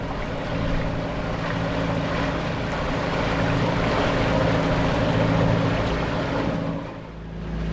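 A sailboat motor sailing offshore at about 7.5 knots with no wind, its engine droning steadily while waves wash and rush along the hull, loud and continuous for several seconds.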